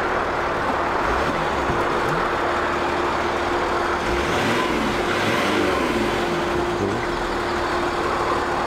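Car engine revved in neutral on a Scandinavian road trip after a transmission fault, rising and falling in slow surges beneath a loud steady rumble of road and cabin noise.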